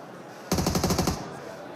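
Automatic gunfire in a PUBG Mobile match at an esports world cup final: a sudden rapid burst of about a dozen evenly spaced shots, loud and close, lasting under a second before trailing off.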